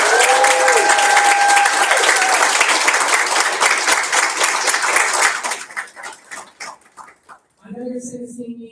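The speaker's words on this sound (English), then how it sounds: "get people to keep clapping for us" A crowd at a Lambda Pi Eta honor society induction ceremony breaks into loud applause and cheering, sustained for about five seconds before thinning out to scattered claps, followed by a brief voice.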